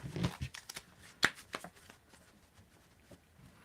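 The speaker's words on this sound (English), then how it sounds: "Just mixing these cards up really well." Tarot cards being shuffled by hand in a series of crisp riffling bursts and soft slaps, loudest early with a sharp flick near the middle, then tapering into quieter, sparse card rustles.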